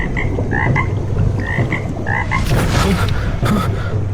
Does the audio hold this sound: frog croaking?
yes